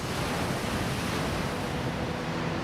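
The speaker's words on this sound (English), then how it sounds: "the sea is really rough" Rough sea surf below a lighthouse on the Northern Ireland coast roars as a continuous, dense wash of broadband noise, loud and steady with wind buffeting mixed in and no voices.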